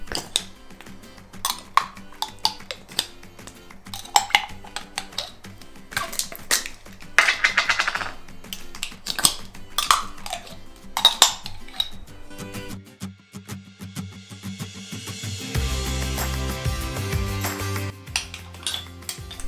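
Coconut oil is scooped from a jar into a large pot of coconut flakes, with irregular metallic clinks, taps and scraping close up, then a heavier thud and a dull rumbling rustle near the end.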